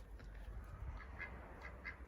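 A duck quacks several times in a quiet garden, short faint calls spaced irregularly over low background hum.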